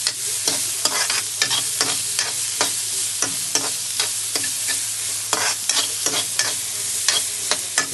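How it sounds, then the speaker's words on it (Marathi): Carrots and other vegetables frying in oil for fried rice, a steady sizzle punctuated by rapid, regular scrapes and taps of a spatula stirring the pan, close and continuous throughout. "थोडंसं गाजरला फ्राय करूया आणि मग आपण आपले बाकीचे 2 भाज्या आहेत ते टाकूया."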